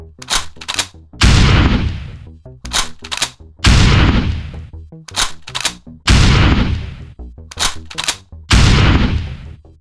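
Loud gunfire from a video game comes in repeated bursts, rapid automatic fire alternating with heavy booming shots at a steady rhythm, close and dominant with no talk.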